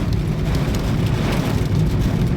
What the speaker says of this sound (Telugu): ఇదిగోనండి వర్షం వచ్చేస్తుంది.